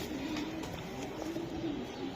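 A racing pigeon cooing close by, soft repeated low coos in a gentle rhythm over faint room noise.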